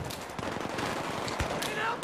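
Rapid automatic gunfire crackles continuously during a Battlefield 3 team deathmatch, dense bursts of shots layered under chatter from players.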